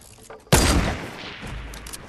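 Gunfire in Fortnite: a loud sudden burst of shots hits at once and rings out, leaving a rumbling tail that fades slowly, with a second smaller rise near the end.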